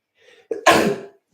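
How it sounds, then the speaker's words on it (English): A quick sharp inhale followed by one loud, explosive sneeze, close and alone, with nothing else around it. "Gonna sneeze."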